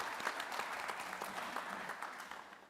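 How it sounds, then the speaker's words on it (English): Conference attendees applaud during a global forum plenary session, a brief even patter of many hands that stays moderately quiet and fades slightly at the end. "And a round of applause as well."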